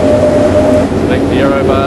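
A square roof bar in a wind tunnel sets up a steady, piercing high-pitched wind whistle over the constant roar of rushing air, with a voice speaking over it near the end.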